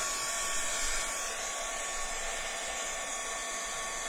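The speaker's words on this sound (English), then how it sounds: "Otherwise I'll clog up my heat gun" A heat gun blasting hot air to dry paint on an altered canvas, a loud, steady, close whooshing roar with a thin whine that holds evenly from start to finish, no voices.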